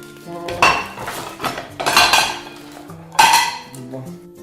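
A frying pan and metal utensils clatter in a cooking video game, with three sharp bursts of clanking over a quiet background of faint tones.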